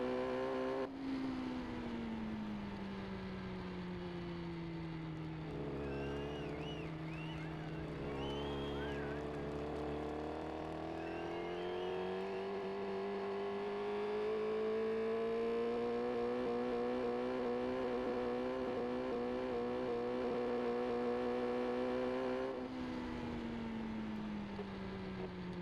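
A Yamaha R6 motorcycle engine hums steadily at low revs in a higher gear while cruising to cool down. The pitch rises and falls gently over a constant drone, with steady wind noise underneath and no voices.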